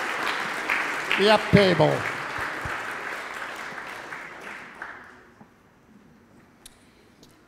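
Applause at a school fundraiser auction, with a voice talking briefly over the clapping at first, then the clapping gradually fades away to scattered claps and quiet.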